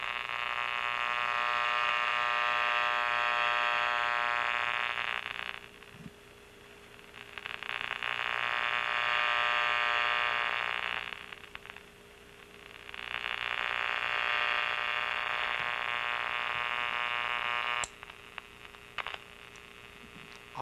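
Small AM radio tuned low on the dial, buzzing and humming with electrical interference from a nearby light, a steady tonal drone that swells loud, drops away and returns in three long bursts, with a few sharp clicks near the end.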